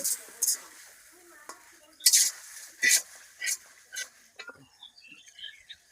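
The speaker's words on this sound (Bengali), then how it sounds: "মাছ একটু মশলার সাথে একটু কষিয়ে নেব।" Fried baim fish stirred into spice paste in a pan, with a series of sharp scraping and clacking spatula strokes over a faint sizzle, spaced irregularly and up close.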